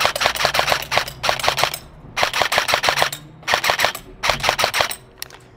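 An airsoft M4 rifle fires snappy semi-auto shots and quick full-auto bursts, four crisp clusters of rapid pops separated by short silences, close and loud.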